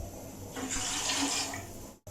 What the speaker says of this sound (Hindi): थोड़ा सा पानी मिक्स कर देंगे